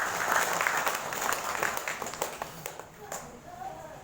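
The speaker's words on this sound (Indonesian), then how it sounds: "Tepuk tangan untuk Mas Rizal Siddiq." A crowd at an evening memorial gathering for Gus Dur breaks into applause, loud at first and then thinning into scattered claps, with voices audible underneath.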